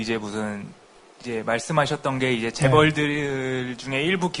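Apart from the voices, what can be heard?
No everyday noises stand out.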